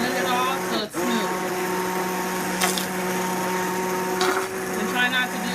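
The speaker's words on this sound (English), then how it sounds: "Just blend it all so it's smooth." Stick blender whirring through hot tomato bisque, a steady motor hum holding through the whole stretch, with a brief dip and a couple of louder surges as it works.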